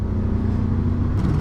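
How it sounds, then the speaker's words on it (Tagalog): A tall truck drives past on a muddy road left thick with mud after Typhoon Kristine, giving a steady, loud low engine rumble that holds throughout with no voices. "Ang taas ng truck na to."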